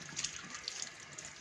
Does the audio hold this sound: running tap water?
yes